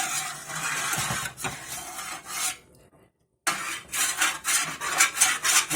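A utensil scrapes roast duck drippings loose in an oven pan, making close, repeated rasping strokes with a brief silent pause midway before the scraping resumes.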